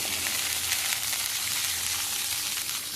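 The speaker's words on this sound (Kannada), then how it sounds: "ಸ್ವಲ್ಪವೇ ಸ್ವಲ್ಪ ನೀರು ಹಾಕಿ ನಾವು ಫ್ರೈ ಮಾಡಬೇಕು" A ground spice paste with a little water fries in a pan, producing a close, even sizzle and crackle throughout with no speech.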